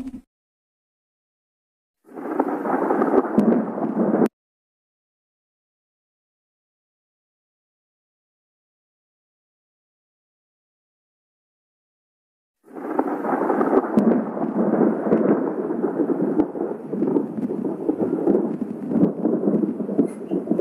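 Thunderstorm and rain sound effect in a Plotagon cartoon: a short burst of broadband rumbling rain, then a long silence, then a steady sustained downpour with thunder that runs to the end, with no talk.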